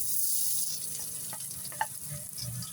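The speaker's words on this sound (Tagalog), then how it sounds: "gigisa na tayo" Garlic sautéing in a pan of hot oil for Filipino bopis, a steady soft sizzle with a few small clinks and stirring scrapes, fairly close and quiet, with no voices.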